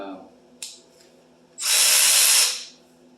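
A Milwaukee M12 Fuel extended reach ratchet spins up in a steady high-pitched whir for about a second, loud and close, after a couple of faint clicks.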